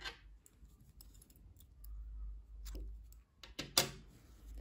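Scissors snip through yarn during crochet work, with a few quiet, close cuts and light handling clicks and no talking.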